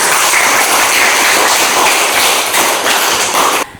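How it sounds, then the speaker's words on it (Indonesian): Classroom applause for a student, a dense, steady patter of many hands clapping close by for a few seconds before stopping abruptly. "kita beri aplaus untuk teman kami"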